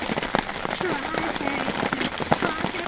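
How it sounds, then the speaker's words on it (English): Rain mixed with sleet falls steadily outdoors in spring, a continuous soft pattering hiss on surfaces with occasional sharper drops, while a person's voice is faintly present underneath. "It's raining, yeah, but it's also kind of sleeting, almost a snowy sleet or something."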